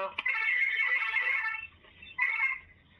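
A phone ringtone sounds twice, a warbling electronic ring that pauses briefly between rings, fairly close and clear with faint background noise.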